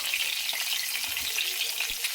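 Pointed gourd (potol) pieces frying in hot oil, a soft, steady hiss with a few faint crackles and a dull knock of a spatula, quiet and close with no voices.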